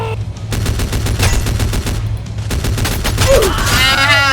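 Rapid bursts of automatic gunfire from the Free Fire battle royale game crackle over a steady low game hum, with dense repeated shots throughout and a brief whooshing effect near the end.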